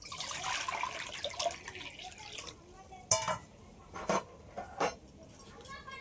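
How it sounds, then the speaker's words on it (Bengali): Water pours into a wok for a couple of seconds as a splashing, trickling gush, followed by scattered knocks and clatters of the pan and utensils at close range. "এবার কড়াইয়ের মধ্যে দিয়ে দিচ্ছি জল।"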